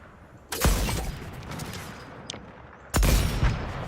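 Two loud sniper rifle shots ring out in a Fortnite match, about two and a half seconds apart, each a sharp crack with a rolling tail, and a faint higher blip in between.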